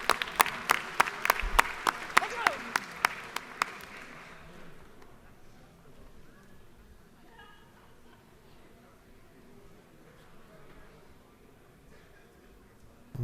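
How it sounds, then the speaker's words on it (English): A few sharp claps ring out in a state legislative chamber, then quickly give way to quiet room murmur and faint distant voices. "So please give them a round of applause."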